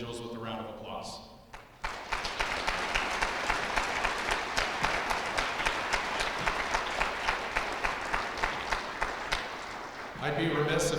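A round of applause from the audience at a school Veterans Day program, steady clapping rising after a brief spoken lead-in and fading as a voice returns at the end.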